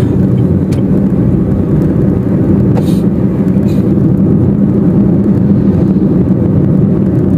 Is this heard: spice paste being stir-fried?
no